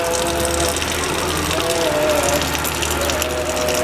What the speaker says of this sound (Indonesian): Ada air mengalir di dalam sana. Ya, air dari pipa itu ya mengalir.